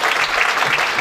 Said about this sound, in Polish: Prosimy jeszcze raz o gorącą oklaski dla laureatów.